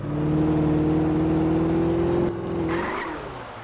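A race car engine in the video game Alan Wake drones at a steady high pitch, then shifts down and fades slightly as it revs lower toward the end.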